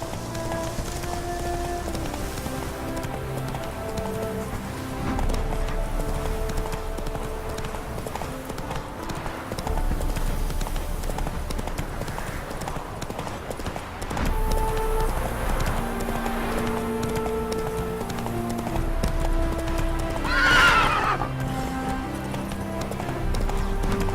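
Hooves clip-clop in a quick steady gallop as a horse runs in The Witcher 3, a continuous rhythmic pounding with rain-like patter and music underneath, and a faint voice at times.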